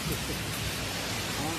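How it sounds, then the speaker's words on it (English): Steady, dense hiss of heavy rain pouring down throughout, broadband and constant with no distinct drops standing out. "It's pouring rain."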